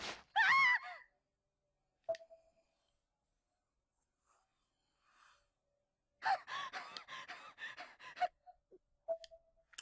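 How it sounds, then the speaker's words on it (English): A Corpse Party: Blood Drive character lets out a few loud, harsh gasps, then goes quiet for a while before a longer run of breathy panting, all set against near silence. "Some heavy-duty panting there."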